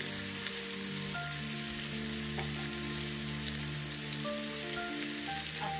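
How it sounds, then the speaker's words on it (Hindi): Sliced carrots and beans fry lightly in a pan with a steady, rain-like sizzle and crackle. It runs continuously and evenly at low volume, with no voices. "इसे हम हल्का भून लेंगे"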